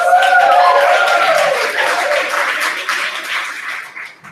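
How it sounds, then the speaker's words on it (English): Enthusiastic applause from an audience at a maker educators' quick-talks gathering, loud broadband clapping that swells at the start and then slowly tapers off, with a few voices and cheers mixed in. "Big round of applause, please"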